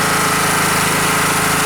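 A petrol generator's alternator runs with a 2 kW angle grinder connected, giving a loud, steady engine drone with a continuous mechanical hum throughout, no voices.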